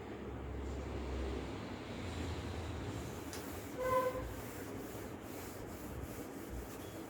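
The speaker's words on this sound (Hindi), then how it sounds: "मैं नीचे वाला गाइस रब कर रही हूँ" A teacher wipes writing off a board during a basic accounting lecture, a soft steady rubbing that runs under faint room noise for several seconds, with a brief brighter scrape near the middle and no talking.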